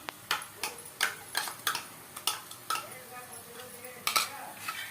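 Ground coconut, poppy seed and cashew paste frying with onion and tomato for channa masala, heard as a rhythmic series of sharp spoon-on-pan scrapes and taps over a faint sizzle.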